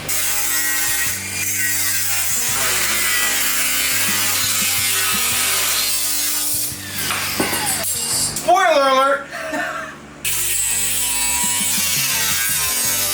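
Harsh, grinding cutting of metal on a Dodge Dakota truck on a hot driveway, droning steadily with rhythmic rasping passes and a high shrieking whine; a voice briefly speaks amid the noise.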